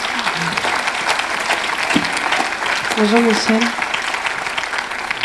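An audience at a French talk on the collaborative, peer-to-peer economy applauds as the speaker is introduced, a dense steady clapping throughout while a voice briefly greets someone over it.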